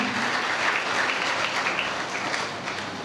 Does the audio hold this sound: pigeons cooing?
no